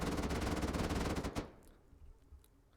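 Explosive 5.56 ammo fires in a rapid automatic burst at a wooden door in the game Rust, loud and close, then cuts off into a short echoing tail with scattered small pops.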